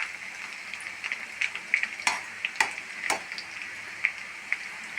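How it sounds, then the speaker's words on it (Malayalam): Chicken nuggets fry in hot oil, a close, quiet crackling sizzle with frequent sharp pops and a few louder scrapes as pieces are turned, with no talking. "നമ്മുടെ സ്നാക്സ് ഞാൻ ഓയിലിലിട്ട് ഒരു ഭാഗം പൊരിഞ്ഞു."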